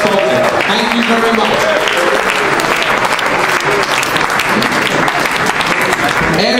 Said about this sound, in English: So can we clap for our main sponsor?